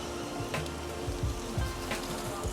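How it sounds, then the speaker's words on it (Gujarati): Rain falls in Mumbai as a steady, soft hiss with scattered drops and dull low thuds throughout, fairly even and moderately distant. "જોઈ શકો છો કે વરસાદી વાતાવરણ છે મસ્ત મજાનું"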